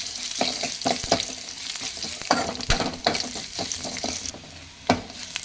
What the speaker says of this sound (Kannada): ಈಗ ಜಜ್ಜಿರೋ ಬೆಳ್ಳುಳ್ಳಿ ಹಾಕಿ ಫ್ರೈ ಮಾಡಿ.